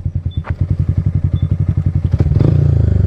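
Motorcycle engine revving hard up close, a rapid pulsing idle that climbs into a louder, faster buzzing rev near the end, with a few clattering knocks.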